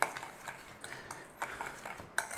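A spoon scrapes and clinks against a bowl while a seasoning mix is stirred, light repeated taps and scrapes at close range with no talking.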